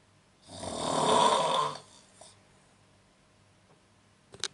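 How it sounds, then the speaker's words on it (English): One loud, drawn-out snore from a person in a hotel at night, lasting about a second and a half, followed by quiet breathing and a faint click near the end. "Someone is snoring like really loud."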